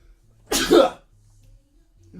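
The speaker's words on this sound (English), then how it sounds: "Sneeze. It's gonna happen." A single sharp sneeze bursts out close up, loud and brief, in an otherwise quiet room with a faint low hum.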